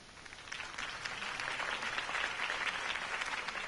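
A crowd applauds after a campaign speech for Harvey Dent in Batman: The Telltale Series, a steady wash of many clapping hands that swells and holds, heard fairly faintly.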